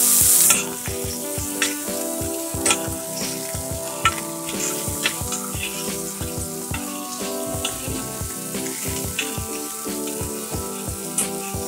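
Vegetables crackle and sizzle in hot oil in a pot, with a burst of loud spitting as they go in, then a steady fry broken by frequent clicks and taps of stirring, near and without talk.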